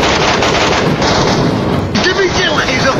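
Rapid gunfire in the PUBG Metro Royale video game, dense bursts of shotgun and automatic rifle shots firing continuously and loudly through the whole stretch, with no voices over it.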